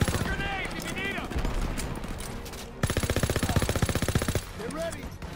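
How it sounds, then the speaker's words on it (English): Suppressive machine-gun fire in the video game Call of Duty WW2: scattered shots and shouting at first, then a long, rapid, evenly pulsed automatic burst, loud and close, before shouting voices return. "Suppressive fire! Keep firing!"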